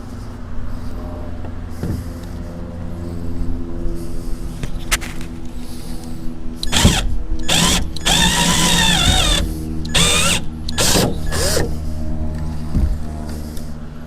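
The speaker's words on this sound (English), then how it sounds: "we have our hole, so all we're going to do is open it up to 3/4 of an inch." A drill opens a hole out to 3/4 inch in a jon boat hatch over a steady low background drone, with several short, loud bursts of drilling and grinding close by in the second half.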